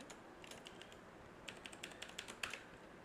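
Typing on a computer keyboard: soft, quiet scattered clicks of keys, sparse at first and then a brief burst of faster keystrokes near the end, alone with no talk.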